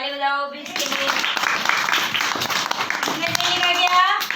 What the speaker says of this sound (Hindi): शाबाश, ताली बजाओ बीच के लिए